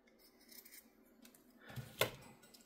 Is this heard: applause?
no